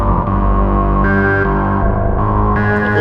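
PWM Mantis duophonic synthesizer playing a preset through its reverb chorus effect, a loud sustained chord shifting between notes with a thick, shimmering, slightly distorted tone and no talking.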